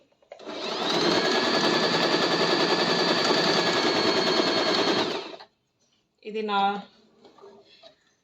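An Usha Allure DLX sewing machine stitches in a steady, loud, rapid mechanical rattle for about five seconds and then stops, after which a voice talks briefly nearby.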